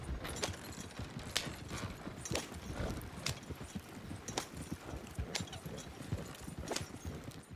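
In Red Dead Redemption 2, hooves clip-clop in a quick, steady rhythm from two horses pulling a rattling wagon, heard close and continuous.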